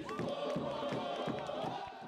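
Home football crowd roaring for Mixto in a state championship match, a dense, continuous wall of cheering and chanting from the stands with rhythmic surges, loud and sustained throughout.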